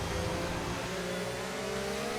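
An F1 25 race car engine drones loudly and steadily under power as the car slides on track, a continuous high-pitched whine throughout.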